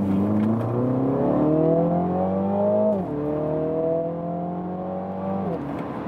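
A 2021 Mini Clubman John Cooper Works with a 306-horsepower 2-liter four-cylinder engine accelerates through the gears, its rising engine note dropping at each shift, loud and close with no talk.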